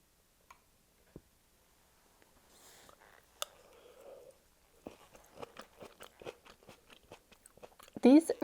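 Crunchy chocolate candy is bitten and chewed close to the mic, with a few isolated clicks at first, then a run of crisp crunches growing denser, ending in a louder burst.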